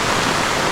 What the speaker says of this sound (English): you can see how much it is raining